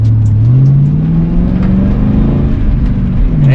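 The engine of a Mustang idles loudly from inside the car in backed-up traffic. Its deep, steady rumble rises and falls gently in pitch with light throttle changes.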